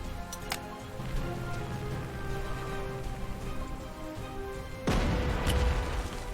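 Steady rain in the war strategy game Panzer Corps hisses continuously, with a dull boom about halfway through that thickens the low rumble for the rest of the passage.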